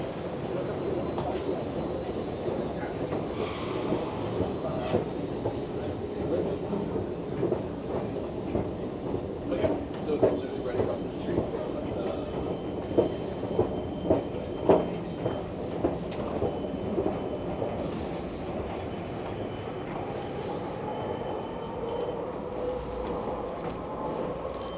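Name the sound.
SkyTrain train in downtown Vancouver station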